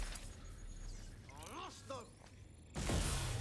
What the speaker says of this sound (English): Okay, that was not as big of an explosion.